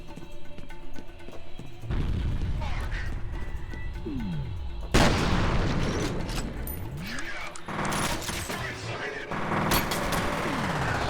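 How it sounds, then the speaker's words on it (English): Grenade blast in the shooter F.E.A.R. Perseus Mandate: a loud broadband burst erupts midway through sustained game combat noise, with gunfire and other bangs before and after it, and a voice speaks over parts of it. "Let's throw a grenade at them."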